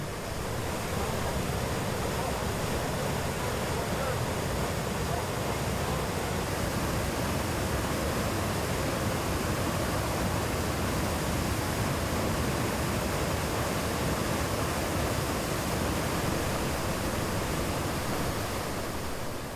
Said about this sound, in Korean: 물방울에 옷이 젖을 정도인 폭포 아래는 한기마저 느껴진다.